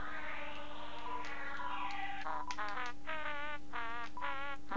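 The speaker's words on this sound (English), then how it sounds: "Oh, a classic spook tune." Eerie, wobbly electronic tones from Undertale music, warbling synth notes in short vibrato bursts over a faint steady hum.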